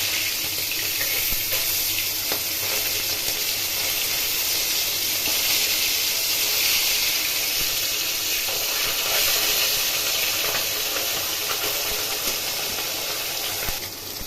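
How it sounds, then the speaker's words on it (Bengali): Small fish fry in hot oil in a wok, a steady close hiss and crackle that holds without a break throughout. "তেল গরম করে মাছগুলো এক এক করে ভেজে নেব"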